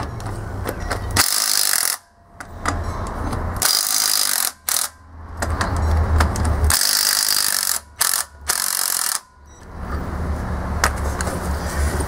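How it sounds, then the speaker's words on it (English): A power impact tool rattles loudly and close as it loosens lug nuts on a 2009 Chevrolet Malibu wheel, in long bursts broken by brief pauses. "Now I just got to make sure that this has enough power to loosen these lug nuts."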